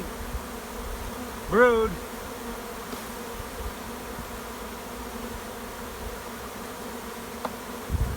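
Honey bees buzzing around an open hive during queen rearing, a steady low hum throughout, with a brief louder pass near the start and a word spoken once.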